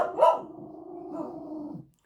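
A single close dog bark rings out and trails into a drawn-out whiny vocalisation lasting about two seconds, heard alone indoors.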